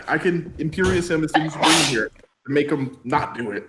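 One sharp, loud sneeze during a tabletop role-playing game session, bursting out in the middle of ongoing talk among players.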